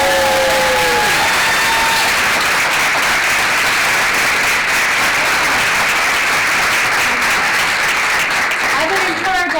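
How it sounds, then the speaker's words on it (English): Loud, sustained applause from an audience fills the room for nearly ten seconds, dense clapping with a few cheers, and brief talk breaking in near the start and end. "Give him a big round of applause."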